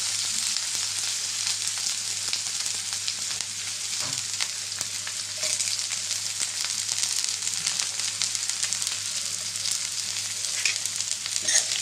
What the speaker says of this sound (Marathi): कांदा थोडासा असं परतून घेऊ